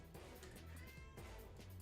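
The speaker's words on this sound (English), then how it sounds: "if you can hear my cat, she says hello" A pet cat meows softly in the background of a room, a brief faint vocal call against steady low hum.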